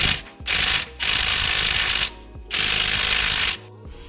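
A ratchet clicks in three fast, loud bursts while loosening a bolt on a Nissan 350Z, with short pauses between the strokes.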